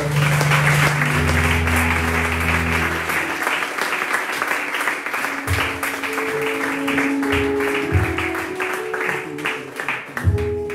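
A church congregation applauds and cheers in praise during a French-language worship service, dense clapping sustained for the whole stretch with organ or keyboard chords sounding underneath.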